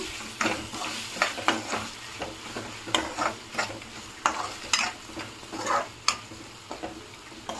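A turmeric and salt mixture stirred in a hot pan: rhythmic spoon scrapes and taps against the metal repeat over a low frying sizzle, close and moderately quiet.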